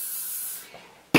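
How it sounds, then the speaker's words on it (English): A spray bottle gives a steady hiss of mist in a drag dressing room, fades to quiet, then ends with a short, sharp, loud burst of spray. "Then give it a little spray."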